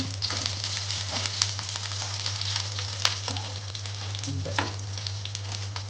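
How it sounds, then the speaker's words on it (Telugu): Peanuts fry in a spoonful of oil in a pan on the stove, a close, continuous sizzle with small crackles and scattered pops over a low steady hum. "స్టవ్ ఆన్ చేసి ఇప్పుడు పల్లీలు వేయించాను కదండి"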